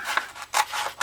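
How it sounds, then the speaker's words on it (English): Scissors slice along the seam of a brown paper bag in several quick, close crisp snips and crunches, with no talking. "On the back of the bag, there is a seam here. I simply cut that seam out."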